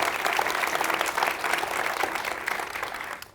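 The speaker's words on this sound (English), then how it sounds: "Give them a round of applause." Audience applause at a live screening-and-talk event, steady dense clapping from a large crowd that holds strong throughout and begins to fade at the very end.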